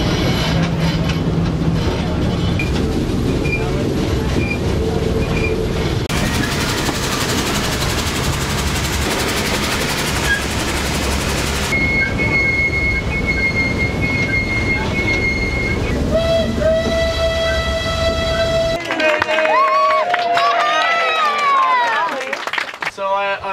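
A steam train rumbles and clatters along, then brakes squeal in a long, high, wavering screech near the end.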